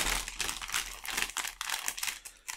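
The plastic wrapping of a Topps UEFA Club Competitions Match Attax 2024/25 starter pack crinkles and crackles continuously as it is torn open, close and busy, with no talking.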